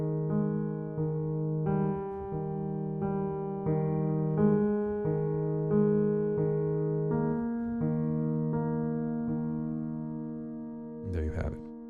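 Piano playing the middle line of the second movement of Beethoven's Pathetique Sonata, a steady flow of soft sixteenth notes held under sustained tones, close and quiet, ending in a brief noise.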